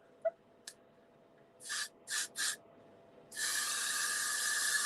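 Got2b Glued hairspray sprayed onto hair: three short hissing bursts close up, then a long continuous spray lasting a couple of seconds, with no talking.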